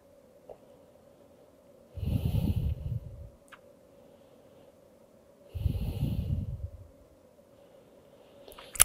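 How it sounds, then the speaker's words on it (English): Two slow, deep breaths during a beginner yoga session, each a soft, close airy inhale-exhale lasting about a second and a half, separated by a quiet pause. "One more full breath"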